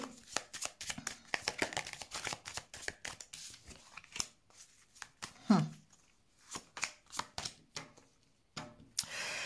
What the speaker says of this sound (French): Je vais mettre des cartes sur ce labyrinthe pour voir un petit peu.